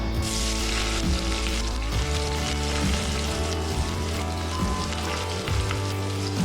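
Onions sizzling steadily in about two tablespoons of hot oil in a cooking vessel, a loud, close, continuous frying crackle with no voices over it.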